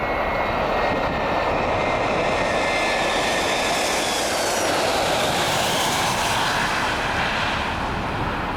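A Russian Ilyushin IL-76 jet approaches the Antarctic blue ice runway in a steady 20-knot headwind, its engines a loud, continuous broadband roar that holds unbroken throughout with no voices.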